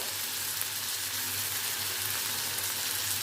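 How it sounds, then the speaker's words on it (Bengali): Onion and garlic frying in a pan with turmeric, salt and ground coriander-cumin for a Bengali boyal fish chop, a steady soft sizzle close up and continuous throughout, with no talking. "পেঁয়াজ রসুনটা যখন একটু ভাজা ভাজা হয়ে এসেছে, এর মধ্যে এবার আমি পরিমাণ মতো হলুদ, নুন, ধনে জিরে গুঁড়ো"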